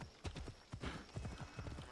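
Horse hooves clip-clopping at a steady trot while riding on horseback in Assassin's Creed Odyssey, close and rhythmic with about eight even hoofbeats and no talking.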